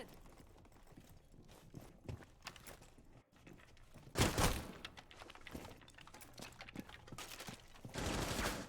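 Rapid bursts of gunfire in Rainbow Six Siege, a player peppering shots at an opponent across the map during a collegiate match, crackling in loud irregular volleys with heavier blasts near the middle and end.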